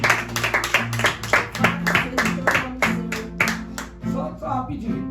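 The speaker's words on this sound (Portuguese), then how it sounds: "aplaudir o Senhor Jesus nesta noite?" Church congregation applauding during an evening service, rhythmic hand claps in quick regular beats layered over a sustained musical drone and tones, loud and near, thinning slightly toward the end.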